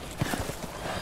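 Horse hooves clop in Resident Evil Village, a short close run of a few quick muffled hoofbeats over a dense game background.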